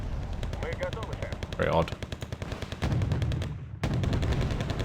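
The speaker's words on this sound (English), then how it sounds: "I don't know why they're charging me with artillery." Artillery and rapid gunfire rumble continuously in a Wargame: Red Dragon battle, with repeated sharp bursts and heavy booms throughout while someone speaks briefly over the din.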